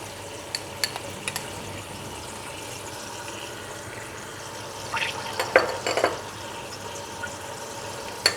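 Ginger and garlic fry in a pan for chicken biryani, a soft steady sizzle under occasional stirring clinks and scrapes, with a brief burst of spatula activity in the middle.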